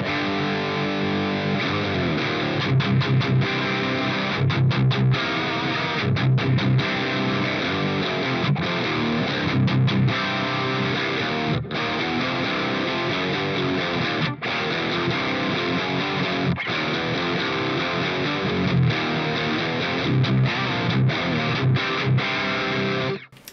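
An electric guitar plays through a Boss Katana head amp with a boost engaged, giving a loud, dense, distorted tone with strummed chords and steady sustain, with no talking.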